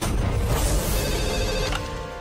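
A telephone rings loudly and continuously over a dense, noisy background, with no talking.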